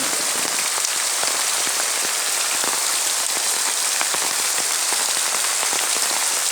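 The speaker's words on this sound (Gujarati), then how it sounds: "તમે મિત્રો જોઈ શકો છો અતિ ભારે વરસાદ પડી રહ્યો છે" Heavy rain pours steadily, a dense unbroken hiss with individual drops pattering close by on a hard surface.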